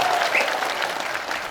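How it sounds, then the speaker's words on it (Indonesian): An audience at a Balinese drama gong performance in the village of Bantiran claps steadily. The dense, even wash of applause sounds fairly close and holds at a constant level. "Tepuk tangan dong untuk bantiran."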